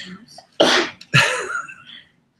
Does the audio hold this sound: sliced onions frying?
no